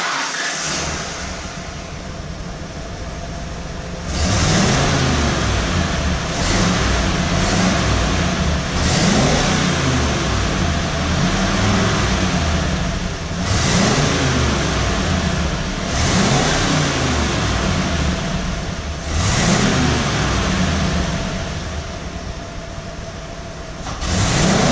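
A 1995 Ford F150 4x4 project truck engine running after a SeaFoam treatment, idling then revved repeatedly in loud swelling bursts, close and steady with no talking.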